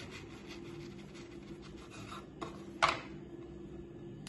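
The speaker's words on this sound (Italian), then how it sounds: "Andiamo a tagliare sulla loro metà." A serrated knife saws through crusty lard friselle bread, giving a soft, steady rasping scrape with a sharper crunch near the end, quiet and close, no talking.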